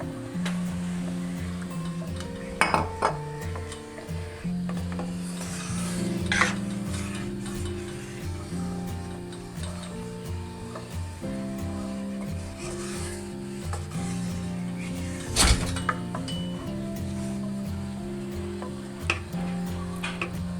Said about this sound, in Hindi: मैं मुसलसल साथ साथ चम्मच हिला रही हूँ।